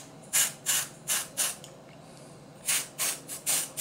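Short hissing bursts of edible spray paint dotting Halloween spider cupcakes, four quick sprays, a pause, then four more, close and fairly quiet.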